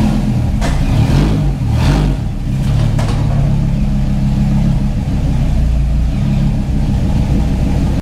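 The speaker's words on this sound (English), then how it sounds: "let's pull this thing in here finally" A Dodge Ram SRT-10 pickup with a V10 engine rumbles loudly and steadily as it pulls into a garage, its deep idle swelling with a few light throttle blips near the start.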